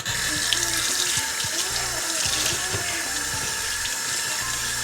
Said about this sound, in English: I'm just gonna use some fresh water